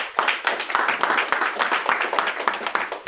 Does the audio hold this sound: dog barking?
no